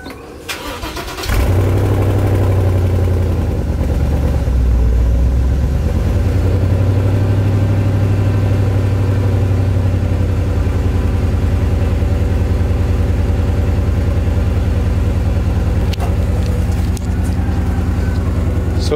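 A stock Mustang GT with stock intake and exhaust and a stick shift starts up and settles into a steady, loud idle, a continuous low engine rumble held close by for the rest of the stretch with no voices.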